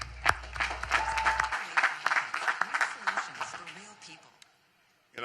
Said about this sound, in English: I want you to give them another round of applause.